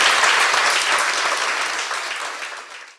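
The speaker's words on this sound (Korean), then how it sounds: "박수 부탁드립니다." Studio audience applause closing a talk show segment, a dense, loud burst of many hands clapping together that holds steady and then fades out over about three seconds.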